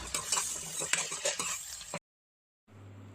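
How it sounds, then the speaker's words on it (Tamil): Three large onions are stirred and sizzle in a pan after ginger-garlic paste, with scraping utensil clicks, then a brief silence before a quieter hum with faint sizzle. "மூணு பெரிய வெங்காயத்தை கட் பண்ணி போட்டு நல்லா வணக்கணும்"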